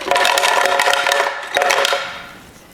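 Ice cubes clatter and rattle loudly into a blender, a dense burst of clinks followed by a second shorter cascade, then settling.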